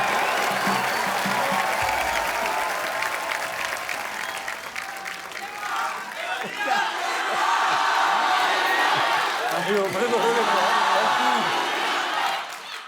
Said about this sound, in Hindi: जोरदार तालियां हमारे चैंपियंस के लिए।